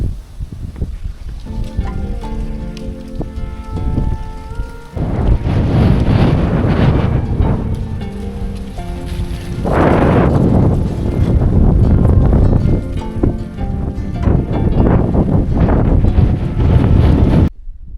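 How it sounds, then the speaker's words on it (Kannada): Strong wind on a 3100-foot hilltop trekking spot near Bangalore roars and buffets the microphone in loud, continuous gusts that swell and ease, with no talk. "ಮೇಲೆ ಗಾಳಿ ತುಂಬಾ ಇದೆ."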